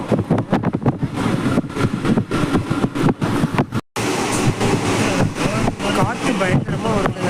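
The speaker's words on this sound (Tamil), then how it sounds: "காற்று பயங்கரமாக வருதுங்க" Strong wind roars steadily past a moving passenger train on the Salem to Chennai route, a dense broadband rush with a brief dropout midway, with voices talking underneath.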